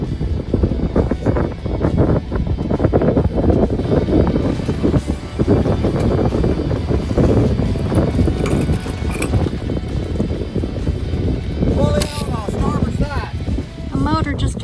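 Strong wind gusting and buffeting across a Catalina 22 sailboat, a loud continuous roar with rigging rattles and water noise throughout, voices talking faintly underneath.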